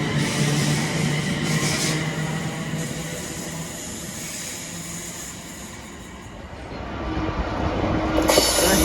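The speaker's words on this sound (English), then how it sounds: "66-705, the freight train passing through" A Class 66 freight train, 66705, rolls past on the Trent Valley Line with a steady loud rumble of wagons, wheels clicking and squealing, swelling again near the end.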